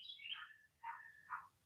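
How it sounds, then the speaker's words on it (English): Small birds give three short, bright chirps in a quiet garden, separate calls spaced under a second apart, faint and somewhat distant, with no talking. "You hear the birds?"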